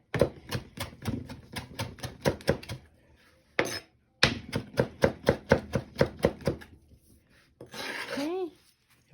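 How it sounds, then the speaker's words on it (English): Knife chopping mango salsa ingredients on a cutting board in quick, even rhythmic strokes, pausing briefly, then resuming another fast run before a short scraping sound. "Let's give this a little chop up"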